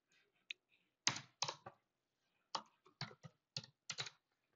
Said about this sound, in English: I will type